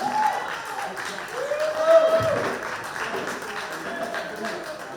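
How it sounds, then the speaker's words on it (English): Audience applause for a band at a 60th anniversary gig, steady broadband clapping across the whole stretch with a crowd murmur and some talk mixed in beneath. "Another round of applause for the band."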